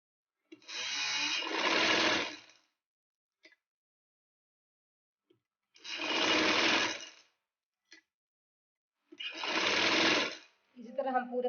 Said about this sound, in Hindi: इसी तरह हम पूरे पंजे पे सिलाइयाँ लगाएंगे